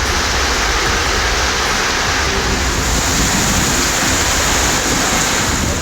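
Moderate summer rain falling steadily for a long stretch, a dense, even hiss with no breaks and no voices, loud and close throughout.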